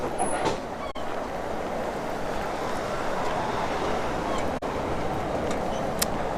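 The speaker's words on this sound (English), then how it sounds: "Tram's loud AF? No, it's just got character." A tram in Porto rumbles along, a loud, steady rolling roar that fills the whole stretch close by, with only brief dips in the noise.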